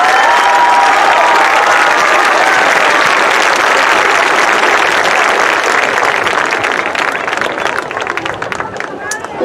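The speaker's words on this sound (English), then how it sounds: "Ladies and gentlemen, one more round of applause for our final row of graduates." A crowd at a high school commencement ceremony claps loudly for graduates, dense sustained applause mixed with murmuring voices that slowly fades toward the end.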